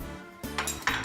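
Spoon clinking against a bowl of pumpkin peanut butter pancake batter mixed with milk and egg: a couple of bright, close metallic clinks after a quiet start.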